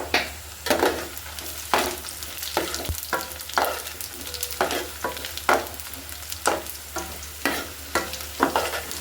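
Panch phoron spices and bay leaves hit hot oil with browned garlic and sizzle loudly. Sharp scraping stirs and clatters come at a regular beat, roughly every second, over a continuous frying hiss.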